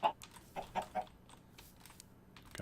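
Chickens in a blocky sandbox video game give a few soft, short clucks, clustered near the start and then spaced out, faint against a quiet background.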